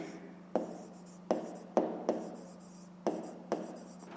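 A pen writes out a math solution by hand on paper, with short scratchy strokes in bursts of about half a second, close and quiet.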